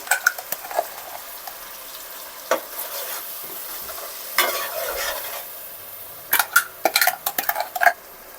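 Spice paste for prawn curry frying in hot oil, a steady sizzle under scraping stirs and clinks of a metal spoon against the pan, busier toward the end.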